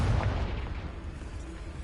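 Confringo fire-blast spell exploding in Hogwarts Legacy, a single deep booming blast that rumbles loud and close, then decays over a couple of seconds.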